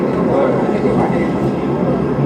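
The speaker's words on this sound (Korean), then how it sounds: "지금의 소리는 시끄러운 지하철 환경을 테스트하고 있습니다" Noisy subway train ambience is played for a microphone test: a dense, steady rumble of rail and carriage noise, loud and continuous with faint voices mixed in.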